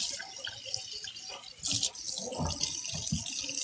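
Water runs from a tap into one side of a kitchen sink, splashing and gurgling steadily up close, with a brief louder gush midway and a few drips and clinks.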